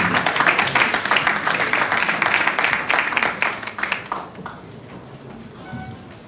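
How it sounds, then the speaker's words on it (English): Applause from a summit audience at a business event, a dense round of clapping that runs for about four seconds and then fades, with some voices talking as it dies away. "Please, a round of applause"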